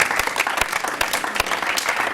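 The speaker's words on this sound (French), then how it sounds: "On va applaudir pour ça, s'il vous plaît." An audience applauds during a TV talk show, dense steady clapping from a studio crowd, loud and close for a couple of seconds.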